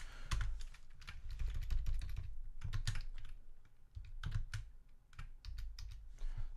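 Rapid typing on a computer keyboard, close and clear, with bursts of keystrokes separated by short pauses and no talking.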